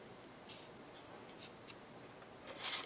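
Scissors snip thread or paper during a paper-craft project, three or four faint crisp cuts spaced apart over quiet room tone, the last one a little louder.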